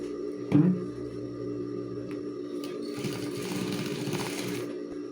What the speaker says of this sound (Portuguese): Acerta o seu pique juntamente com a costura e vamos passar uma costurinha aqui.